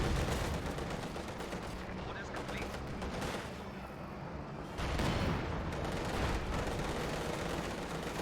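Company of Heroes 2 battle with cannon and Maxim machine gun fire: dense, continuous gunfire and artillery thuds crowd together throughout, with louder bursts toward the end, heard under quiet commentary.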